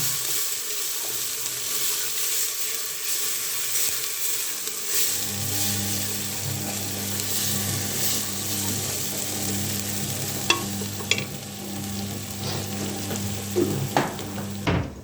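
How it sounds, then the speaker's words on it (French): Sauce for filet mignon stirred in a hot pan, a steady close sizzle with soft scraping strokes that grows fuller partway through, with a few sharp utensil clicks near the end. "Et on remue le tout."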